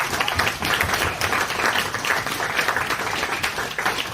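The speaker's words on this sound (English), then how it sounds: "I just wanted to have a round of applause for our bridesmaids, please." Wedding guests applauding the bridesmaids during a best man speech at a reception, a steady mass of clapping that holds at an even loudness for about four seconds with no talking over it.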